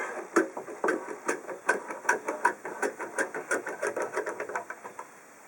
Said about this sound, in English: You just pry open the top.